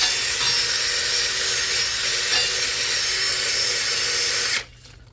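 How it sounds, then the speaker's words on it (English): Loud, continuous whirring grind of a spinning wire wheel scrubbing rust off a Dodge Grand Caravan rear brake, holding steady before cutting off abruptly near the end. "Wire wheel this up, clean it up."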